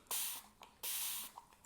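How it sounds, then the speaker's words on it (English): Two short hissing bursts from a spray bottle misting acrylic paint mixed with drying retarder, each lasting about a third of a second, quiet and close, with faint small clicks between them. "Also going to spray the paint."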